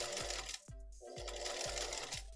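A sewing machine stitches a fabric coffee cozy, running in steady bursts of rapid mechanical needle chatter with a brief pause partway through, close and clear.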